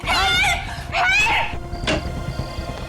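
People scream and wail for help in alarm, heard as two long, loud, high-pitched cries followed by a shorter shout, then quieter sounds.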